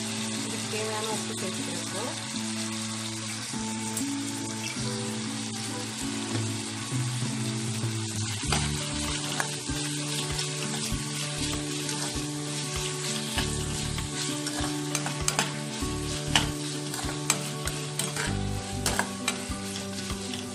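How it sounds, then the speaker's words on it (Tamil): Chopped tomatoes with chilli powder and salt sizzling in hot oil for chilli vermicelli, stirred throughout with repeated scraping strokes over a continuous close frying hiss; a voice speaks faintly underneath. "தக்காளி நல்லா வதங்கட்டும்."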